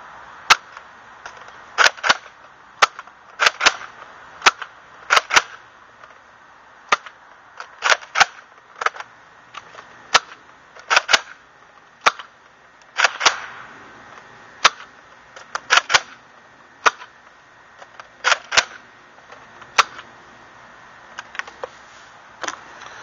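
Nerf Retaliator blaster firing foam darts, a long series of sharp pops and clacks from priming and shooting, often in quick pairs with short pauses between, close and fairly loud, no talking.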